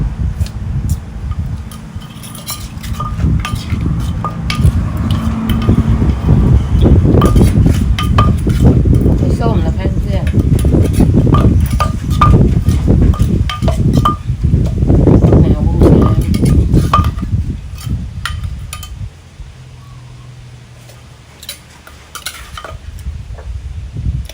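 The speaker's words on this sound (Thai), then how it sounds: "นี่น้องโขกแตงก่อนตำแตงก่อน" Cucumber pounded in a mortar for a spicy Thai salad with minced pork and khanom jeen rice noodles: steady, repeated dull knocks and scraping under someone talking, fading to quieter work near the end.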